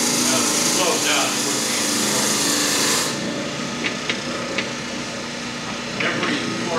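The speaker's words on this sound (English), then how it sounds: "only one side of the forester bit's actually cutting right now." A Forstner bit on a small, low-powered lathe cuts into wood with a rough grinding whir that stops abruptly midway, followed by quieter workshop noise and a few faint clicks.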